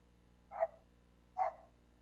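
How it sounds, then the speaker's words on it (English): Two short, muffled dog barks come from somewhere in the house, spaced about a second apart over a low steady hum. "you might hear a dog run by once in a while"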